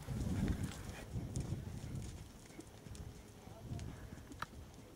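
Horse hooves drumming in an extended canter, a steady rhythmic clip-clop heard under people talking nearby.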